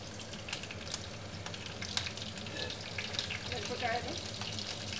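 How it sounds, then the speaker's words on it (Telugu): Chillies frying in a pan as the start of a chutney, a steady close sizzle and crackle with faint stirring scrapes and a soft watery hiss underneath, no talking. "పచ్చడికి కూడా మిరపకాయలు వేస్తున్నా ఫస్ట్"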